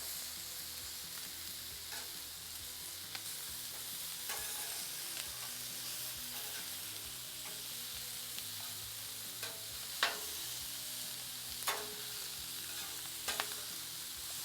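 Chicken wings frying on a Blackstone griddle give a steady, close sizzle, with occasional sharp scraping taps from a spatula breaking through the hiss.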